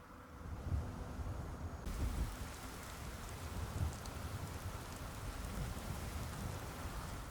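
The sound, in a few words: rain in Skyrim video game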